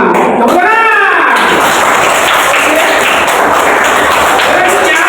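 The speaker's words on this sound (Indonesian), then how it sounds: "Tenang. Tepuk tangan." A classroom of students claps hands together, a dense, loud burst of applause that carries on steadily after a short voice at the start.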